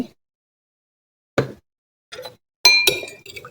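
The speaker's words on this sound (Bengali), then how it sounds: "চিনি দিয়ে ভালো করে নেড়ে চেড়ে" A spoon stirs sugar into milk in a glass for watermelon sharbat, giving a few sharp, close clinks in quick bursts after a moment of silence.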